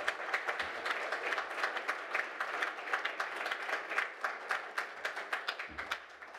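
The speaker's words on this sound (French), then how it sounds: "Je suis heureux de l'applaudir avec vous" Conference audience applauding a speaker at a closing session; dense, sustained clapping from a large crowd, fairly even in loudness with sharp individual claps standing out, no talk over it.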